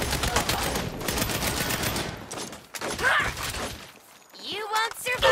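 Saints Row gameplay with sustained, heavy bursts of gunfire that break off, then pick up again, as a voice talks over the shooting.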